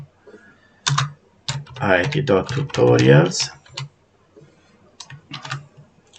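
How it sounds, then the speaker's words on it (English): Typing on a computer keyboard during a C# .NET console tutorial, a few quick bursts of clicky keystrokes before and after a stretch of someone talking. "let's type something from my keyboard"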